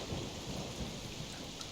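Steady heavy rain pours down with a low rumble of thunder, a dense continuous wash of sound with no voices.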